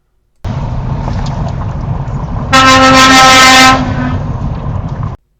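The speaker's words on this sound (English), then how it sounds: "he does blow his horn" A lorry horn sounds from the road, a loud, steady, tonal blast lasting about a second over constant engine and road noise heard from inside a car.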